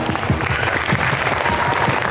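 An audience applauds outgoing senior students at a school scout-style inauguration ceremony, with steady, dense clapping from a large group filling the whole stretch.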